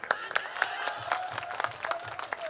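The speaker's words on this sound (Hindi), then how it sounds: "मैं चाहता हूं एक बार और तालियां बजाएं" Applause from a crowd at a Hindi poetry or political gathering comes in fairly faint, loose claps. A voice speaks over it.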